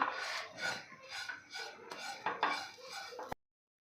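Whole cloves and green cardamom pods dry-roasted in a pan, heard as a rhythmic series of close rubbing, scraping strokes from stirring, about one every half second, before the sound cuts off abruptly.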